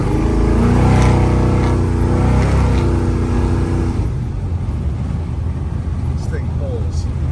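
A 1968 Chevrolet C10 truck with a 468ci engine and six-speed automatic accelerates, its loud, close engine roar climbing through the revs before easing off into a quieter rumble, with someone talking over part of it.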